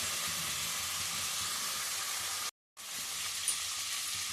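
Cauliflower and green chilli pieces fry in oil over a high flame for a cauliflower curry, making a loud, steady, hissing sizzle that drops out for a brief moment before resuming.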